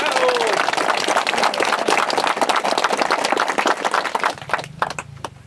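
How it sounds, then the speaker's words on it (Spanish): A crowd at a municipal dam inauguration event in rural Peru bursts into loud, sustained applause with sharp claps and shouting voices, fading to scattered claps at the end. "Fuertes aplausos"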